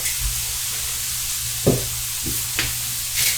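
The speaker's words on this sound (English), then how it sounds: "The onions are already in there cooking." Onions sizzle steadily in a pan while cabbage cooks nearby, a close, continuous frying hiss broken by a few brief stirring clatters.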